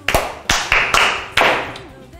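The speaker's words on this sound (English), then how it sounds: "Let's clap for him." Children at a kids' club session give a handful of sharp, separate claps, close and uneven rather than a sustained round of applause.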